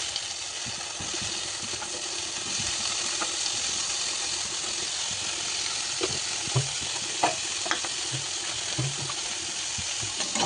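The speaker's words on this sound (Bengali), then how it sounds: "মোটমাট শুধু এখানে একটু নাড়িয়ে নিলাম, হয়ে গেল।" Mutton pan-fries with a steady, bright sizzle that fills the clip, while a spoon stirs it and scrapes against the pan in scattered soft knocks and clinks, close and continuous.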